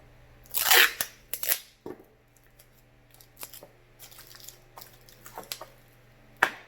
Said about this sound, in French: Tu prends du tape à boîte, tu en remets par-dessus.